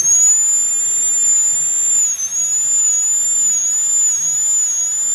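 A dental drill burr cuts the axial wall of a tooth during a full metal crown preparation on tooth 46, a steady high-pitched whine that runs on continuously at close range with no voices.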